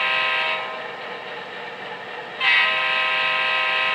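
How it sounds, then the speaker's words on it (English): A short horn blow from an HO-scale Southern Pacific ALCo RSD-15 diesel model locomotive: a steady, bright harmonic tone that swells at the onset, softens, then surges again near the end, clear and alone. "That is the shortest horn blow you can get out of it."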